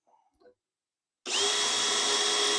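A power drill fitted with a 3/4 inch bit, boring holes for a truck-themed mailbox bumper, starts abruptly after a short silence and whines loud and steady up close.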